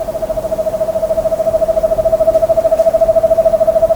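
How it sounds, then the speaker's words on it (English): An eastern screech owl gives a steady, fast trill, a long unbroken run of even, rapid pulses that holds at one pitch for several seconds, close and loud over a faint background. "that owl was actually calling out to another eastern screech owl"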